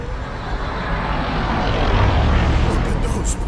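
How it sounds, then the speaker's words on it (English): In the video game Guardians of the Galaxy, aircraft engines roar past overhead, a loud, broad, steady rush that swells slightly toward the end, with spoken voices partly over it. "Look at those planes."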